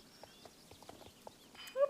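Faint, light hoof clops from a horse in the video game Star Stable tick irregularly at a walking pace, followed at the very end by a louder tonal burst.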